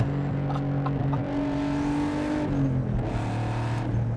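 A 500 WHP big turbo BMW M3 track car driving on a circuit, its engine droning loud and close with rising and falling revs and gear changes, no voices over it.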